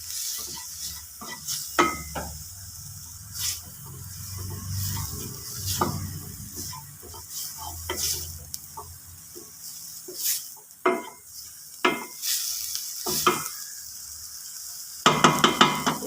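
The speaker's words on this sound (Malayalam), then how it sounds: "ഒന്ന് ഇളക്കി പച്ചമണം മാറുന്നിടം വരെയും ഒന്ന് വഴറ്റി കൊടുക്കാം." Onion, tomato and masala powders sizzle in a pan under a steady fry, with repeated scraping stirs and metallic clinks from a spoon against the pan, close and clear.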